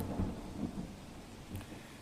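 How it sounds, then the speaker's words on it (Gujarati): A heavy monsoon downpour in Bharuch, Gujarat, pours steadily with a rolling low rumble of thunder underneath, the rain hiss continuing throughout. "ધોધમાર વરસાદનું આગમન"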